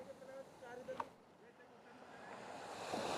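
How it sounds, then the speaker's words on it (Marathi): Sea waves wash steadily onto a Konkan coast beach between Harihareshwar and Guhagar, a continuous broad surf roar that swells louder toward the end, mixed with wind buffeting the microphone. "तुम्हाला ऐकायला येत असेल कदाचित लाटांचा आवाज."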